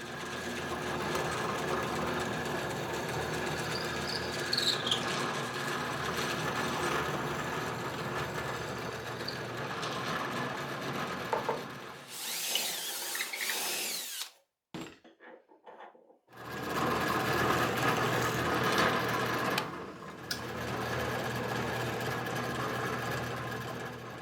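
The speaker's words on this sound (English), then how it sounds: "here I'm drilling the holes through for the bolts" A drill bores holes through a 1/4 inch metal flat bar clamp in a workshop, a steady close whirring drone broken by a short pause before drilling resumes.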